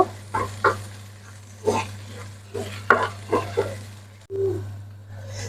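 Okra and spices sautéing in a pan as a spatula stirs them, producing a series of separate scraping strokes over a soft background sizzle and a steady low hum. The strokes come in short bursts, close and moderately quiet.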